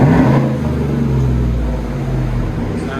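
A supercharged 2017 GMC Sierra Z71 with a 5.3L V8 and Black Widow exhaust revving, a loud, steady deep rumble with rising and falling engine pitch, close by and heard alone.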